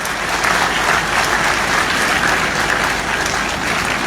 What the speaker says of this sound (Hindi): तो तालियां तो पहले प्रथम पुरस्कार जैसे बजाओ भाई।